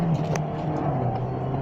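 Renault Duster petrol car accelerating in a high gear, a steady engine drone with rising revs heard from inside the cabin, with a brief click near the start and no talking.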